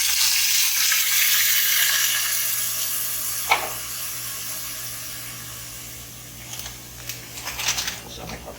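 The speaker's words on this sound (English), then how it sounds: "I'm just going to add the rice now." Rice hits a hot pan in a Belizean home kitchen, setting off a loud steady broadband sizzle that slowly fades, followed by a few faint clinks and stirring scrapes near the end.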